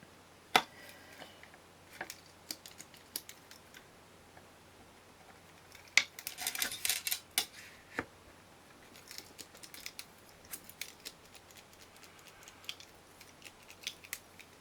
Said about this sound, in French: On va le couper à 20.